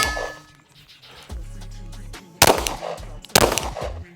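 A Glock 9mm pistol with an angled Spades Imperium 9C compensator fires two sharp, loud outdoor shots about a second apart, each a crisp crack with a ringing tail, preceded by a low mechanical hum.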